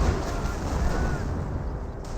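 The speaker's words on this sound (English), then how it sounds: "Here comes 28 centimeter rocket barrage" A 28 cm rocket barrage in the Company of Heroes video game, a loud, rumbling wash of overlapping explosions and artillery booms that rolls steadily on without a break.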